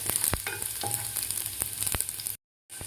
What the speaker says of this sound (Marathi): लसूण सुद्धा व्यवस्थित आपल्याला परतून घ्यायचं आहे. थोडासा गोल्डन होईपर्यंत आपल्याला लसूण परतायचं आहे.